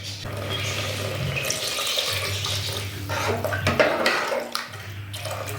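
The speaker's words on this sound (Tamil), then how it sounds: "எனக்கு கொஞ்சம் தண்ணியாட்ட வைக்கிறதுனால கொஞ்சம் தண்ணி ஊற்றுறேன்." Water runs steadily from a tap and splashes into a cooking pot for mushroom kulambu, a continuous rushing pour with brief changes in flow partway through.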